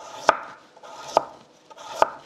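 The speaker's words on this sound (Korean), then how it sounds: "당근을 썰어 보겠습니다. 당근은 채를 쓸 거예요" A knife julienning carrots into thick strips on a cutting board gives three crisp, close chops spaced almost a second apart, with quiet in between and no voices.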